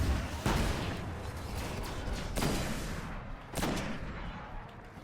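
Gunfire in a Destiny Nightfall mission, three heavy booming shots spaced a second or two apart, each with a long rumbling tail, fairly loud with no talk.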